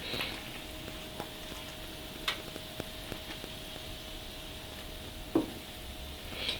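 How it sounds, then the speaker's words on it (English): A coconut and semolina cake mix with ghee comes to a gentle boil in a pan over medium heat, giving a low, even bubbling hiss broken by a few faint taps and clinks. "the mix has come to a boil now. I've got the pan over some medium heat"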